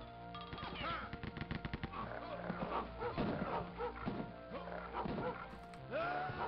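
A dog in the video game Rise of the Triad barks and whimpers amid rapid gunfire and thwacking hits, busy game sounds layered throughout at moderate level.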